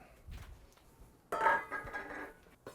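A bowl is pulled out and set down on a kitchen counter while making a chicken soup frittata, with a soft knock followed by a brighter ceramic clink and a brief ringing tail, close and quiet.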